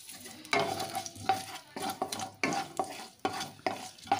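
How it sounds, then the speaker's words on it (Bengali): Mustard seeds and a dry red chili frying in mustard oil for a tempering, with bursts of crackling sizzle coming in quick waves, up close and loud, along with the scrape of stirring in the pan. No one speaks. "একটু ফোড়নটাকে ভেজে নিচ্ছি।"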